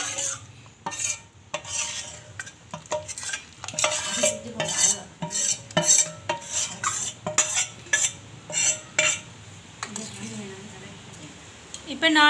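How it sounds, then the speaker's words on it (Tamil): Flour batter is poured into a pot of boiled mung beans and flour dumplings for Sri Lankan aadi kool, then stirred, with repeated clinks and scrapes of a spoon against the pot, close and clear, while a person talks over it. "இனி நாங்கள் இந்த கரைச்சி வச்ச மா கரைசலை வந்து இதுக்குள்ளே விடலாம்."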